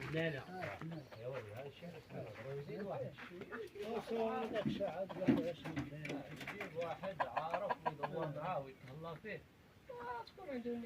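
Chickens cluck and call repeatedly on a farm for sale near Sefrou and Ifrane in Morocco, close and fairly loud, with people talking over the birds.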